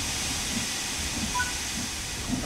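Steam locomotive in Train Sim World 3 gives off a continuous broad hiss of steam as the regulator opens, fairly loud and steady, with faint rumbling beneath and no talking.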